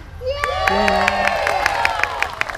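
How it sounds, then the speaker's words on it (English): An audience at a small theater show cheers and whoops, with high children's shouts and scattered claps rising together in a lively, close burst of crowd noise. "Everybody cheer."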